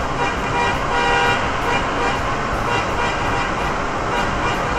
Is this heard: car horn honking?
yes